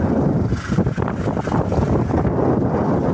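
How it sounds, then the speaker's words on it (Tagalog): Strong wind buffeting the microphone outdoors, a continuous loud roar with gusty fluctuations and no voices. "Mahangin"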